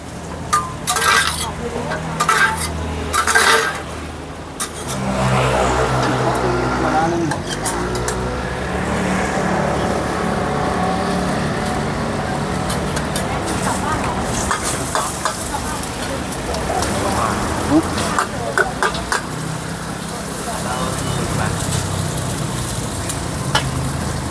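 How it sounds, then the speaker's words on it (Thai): Pad thai noodles are stir-fried at a late-night market stall in Rasi Salai, with hissing sizzle and metal spatula scrapes against the pan and someone talking over the cooking. "ผัดเส้นไว้ก่อนนะครับ"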